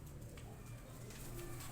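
Flying pigeons coo faintly in a low, rhythmic murmur under steady background noise, the calls quiet and somewhat masked.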